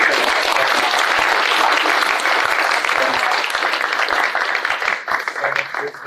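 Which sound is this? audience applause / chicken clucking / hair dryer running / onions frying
audience applause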